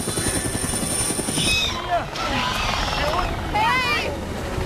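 Helicopter crash scene in the video game Jurassic Park: The Game, with a loud, continuous rotor roar and rumble, rising and sweeping whines and metallic noise, heard alone without voices.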